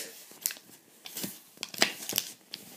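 A Gerber knife slices through cheap plastic packaging from a knife unboxing, giving close, sharp cuts and crinkling snaps in irregular bursts, with no talking.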